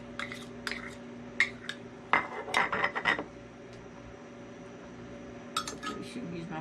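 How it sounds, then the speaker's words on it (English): Glass Pyrex dishes clink and knock on a kitchen counter during baking prep, several light clatters and scrapes amid low background hum, with a few more taps near the end. "I will put my 1/2 cup of shortening in another Pyrex because it needs to get melted"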